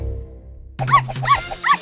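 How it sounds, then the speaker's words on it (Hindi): A pet dog at a pet hotel yips three times in quick succession, close and fairly loud, over a low steady hum. "ये रहा आपका कुत्ता"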